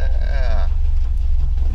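A 1974 VW Bay Window Bus with an air-cooled 1800 engine runs just after a cold start, holding a steady, close low rumble with a short rising whine at the start.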